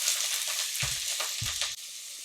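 Chopped onion dropped into hot oil in a medium non-stick pot, crackling into a steady, close sizzle with two brief low thuds as pieces land; no voices.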